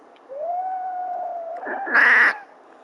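A pet cat gives a long drawn-out yowl that rises into a harsher, louder growling cry near the end, close and alone in a quiet room.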